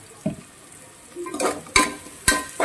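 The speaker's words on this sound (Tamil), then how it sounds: "நல்ல இதை கொஞ்சம் ஃப்ரை பண்ணிக்குவோம்" Potatoes and vegetables fry in a pan for vegetable biryani, with a soft sizzle broken by a few sharp clinks and scrapes of stirring near the end.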